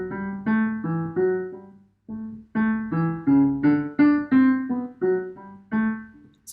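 The low bass-clef string part from the opening bars of Mozart's Eine Kleine Nachtmusik plays on its own, a lower line of short detached notes in a bouncing rhythm. A clear pause splits the phrase partway through.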